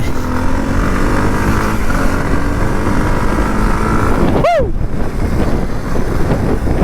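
A Kawasaki KLX 230 dirt bike rides along with steady engine drone buried under heavy, constant wind buffeting on the microphone, with a brief sharp sweeping tone about halfway through.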